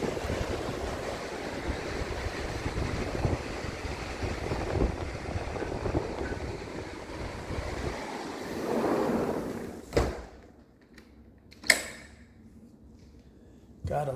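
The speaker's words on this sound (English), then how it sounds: "It's a pretty day, but windy." Wind blows at a beach on a pretty, windy day, a steady loud gusting roar that buffets the microphone, then drops away near the end, leaving a couple of sharp knocks.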